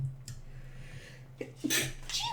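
A single quick sneeze bursts out close by over a low background hum, followed by a short breathy exhale.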